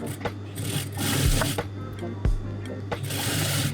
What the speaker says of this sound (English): now we're just gonna edge stitch this really nicely